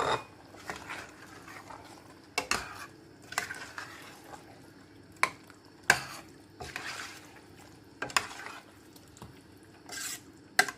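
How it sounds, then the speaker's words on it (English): Chilli is stirred into a chicken curry in a pot, giving soft scraping and wet liquid clicks at irregular intervals, fairly quiet and close, with a faint bubbling patter between the strokes. "Before you do the 10-minute cooking, add the chilli. Stir it in."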